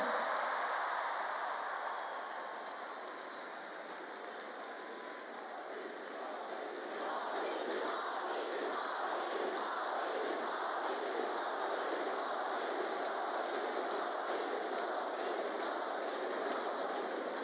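Large rally crowd in Nashik, India chanting in unison, a dense continuous roar with a steady rhythmic pulse that holds throughout, loud and distant, with no clear talk over it.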